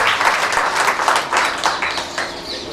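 A large audience applauds loudly and continuously, welcoming Madhaviben and her troupe of performers as a devotional program begins, the clapping dense and steady throughout with no talking.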